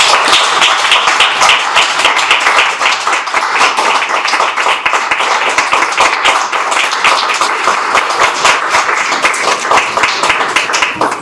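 An audience claps steadily after a poetry reading at an open mic event, dense sustained applause filling the room without pause and no talking over it.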